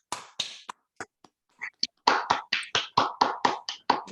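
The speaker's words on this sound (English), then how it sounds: "I would like every one of us to give a big applause to Luis." Applause from a small online or conference audience, starting as a few scattered separate claps and building into a brisk, fairly close run of individual hand claps.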